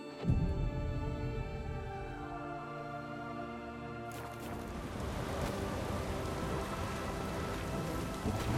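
Steady rain falls in The Witcher 3 video game, a dense hiss of drops on surfaces that swells louder partway through, with a low rumble beneath and no talk.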